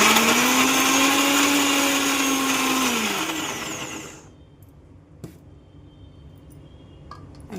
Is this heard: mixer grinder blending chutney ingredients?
yes